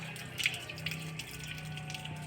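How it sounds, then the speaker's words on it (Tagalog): Water pours steadily from an overflowing tank, a continuous rushing gush with a few brighter splashes near the start, steady and moderately close throughout. "Maapaw-apaw na yung tangke nila"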